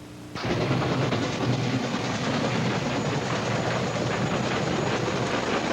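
A steam-powered passenger train on an early Canadian railway rolls past in close, loud, steady rumble with rhythmic clatter, lasting throughout after a sudden onset, on an old archival film recording.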